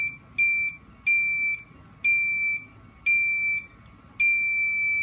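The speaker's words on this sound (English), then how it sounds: "You hear the beeps." A 555 timer oscillator circuit gives a steady series of five sharp electronic beeps, evenly spaced about one second apart, each a clear high tone lasting roughly half a second over a low background hum.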